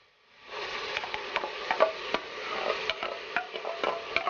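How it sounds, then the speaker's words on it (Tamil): Ground ginger, garlic and coriander paste goes into a pan of sautéed onions, raising a steady close sizzle broken by scraping stirs, with no talk. "இப்போ இந்த இஞ்சி பூண்டு இந்த கொத்தமல்லிலாம் அரைச்சி வச்சிருக்கிறது போடணும் இதில்"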